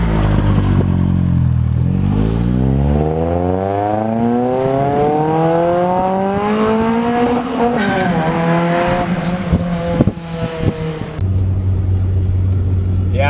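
A Nissan SR20DE engine fitted with individual throttle bodies revs loudly and continuously, its pitch dropping, then climbing in a long sweep, falling back and settling into a steady idle near the end.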